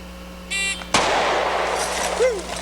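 A shot timer beeps, then a single sharp gunshot fired from the ready position cracks loudly nearby, followed by a fading echo and a faint tail sound.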